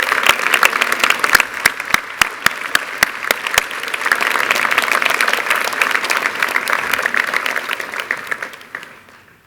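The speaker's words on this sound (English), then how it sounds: "give these guys a massive round of applause" Audience at a 2018 high school graduation ceremony breaks into dense, sustained applause with sharp individual claps standing out, holding steady before tapering off in the final second.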